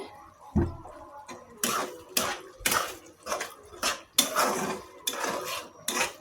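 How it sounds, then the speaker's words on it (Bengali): Yogurt being stirred in a cooking pot for a liver and biryani dish, with repeated scraping and clinking strokes of a utensil against the metal in an uneven rhythm, close and fairly loud, without talk. "ভালোভাবে আমি নাড়াচাড়া করে নিচ্ছি।"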